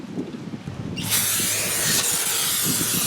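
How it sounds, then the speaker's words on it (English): A fresh can of aerosol brake cleaner sprays a steady, loud hiss onto new brake rotors to strip their protective film. The spray starts about a third of the way in and runs unbroken to the end. "we're going to clean that film off with a new can of brake cleaner"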